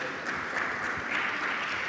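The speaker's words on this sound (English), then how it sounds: "We give a round of applause." Audience applause at a blockchain summit, a steady wash of clapping from a crowd that fills the whole stretch at an even level, with no voices over it.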